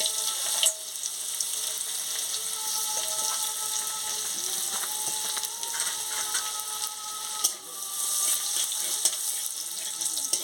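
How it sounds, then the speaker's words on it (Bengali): Chilli and garlic sizzle steadily in hot oil for a Bengali cabbage fry, a soft continuous crackle with faint clinks and scraping of a utensil near the pan. "লঙ্কাটা রসুনটা ভালো করে ভেজে নিচ্ছি।"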